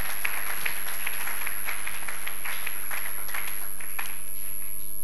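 A church congregation applauding during a French-language sermon on order in the home, a sustained wash of mixed clapping from many hands, fairly steady and moderately loud throughout.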